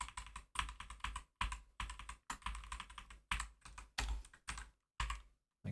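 Rapid clattering keystrokes on a computer keyboard as a command is typed, coming in quick close bursts separated by short pauses.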